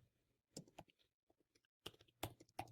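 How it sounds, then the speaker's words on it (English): Keys clacking on a computer keyboard as a terminal command is typed during a Fedora Linux setup, with short irregular bursts of clicks separated by pauses and a final pair of firmer taps like pressing enter, close and fairly quiet. "let's create a folder by typing the following command"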